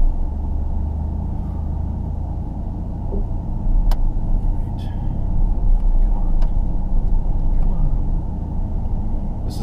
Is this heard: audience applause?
no